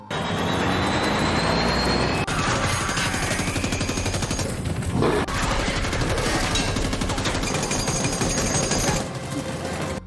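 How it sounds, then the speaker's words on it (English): A machine gun fires in rapid, continuous bursts for the whole stretch, harsh and loud, mixed with heavy mechanical and explosive action noise from an animated monster battle in a subway. "Uncle also took out a machine gun and tested the creature with a bullet."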